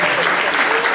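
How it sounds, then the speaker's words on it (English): An audience applauds the contestants at an accordion jam held in a gallery, a dense, steady, close wash of clapping that fills the whole moment. "How about a round of applause for all the contestants, okay?"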